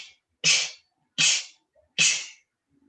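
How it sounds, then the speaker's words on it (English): A person sneezes three times in quick succession, each a sharp close burst with a brief intake before it, separated by short silences. "I'm gonna sneeze"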